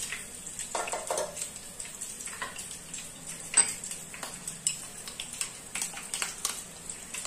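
Whole garam masala and bay leaves tempering in hot oil, a faint steady sizzle with light ticking crackles and small pops, no talk.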